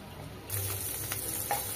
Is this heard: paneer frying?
yes